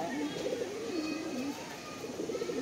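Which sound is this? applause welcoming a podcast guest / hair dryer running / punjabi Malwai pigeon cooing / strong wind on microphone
punjabi Malwai pigeon cooing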